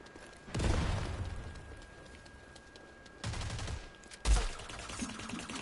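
Gunfire in the shooter video game Rogue Company comes as three separate bursts of heavy shots with quieter gaps between them, loud and close.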